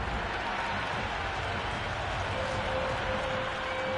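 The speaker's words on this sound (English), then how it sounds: "the crowd have joined the party. It's pretty noisy in the ground." Stadium crowd at a cricket match in the video game Cricket 26, a steady wash of distant cheering and applause that holds at an even level throughout.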